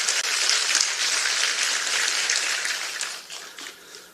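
A room full of people at a South Korean People Power Party political event applauds, a dense steady clatter of clapping that gradually fades out toward the end.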